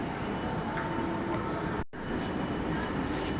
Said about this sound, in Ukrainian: Так виглядає ЖД вокзал в Берліні. Такий він здоровенний.